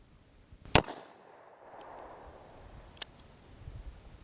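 Two sharp gunshots from a .357 Magnum Smith & Wesson heavy pistol fired over a chronograph, the first loud and close, the second about two seconds later and weaker, with low background rumble between them.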